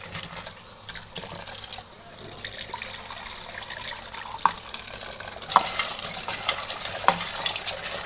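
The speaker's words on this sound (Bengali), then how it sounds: "এই যেখানে বুটের ডালটা ধুয়ে রাখতেছি, ধুয়ে এই ডালটা ভিজিয়ে রাখবো" Chana dal, split chickpeas, is swished and rinsed in water close by, with gentle sloshing and trickling and a few small sharp clinks of grains or a utensil against the container.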